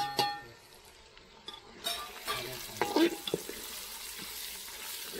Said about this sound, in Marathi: आता घेवडे टाकूया सोललेले.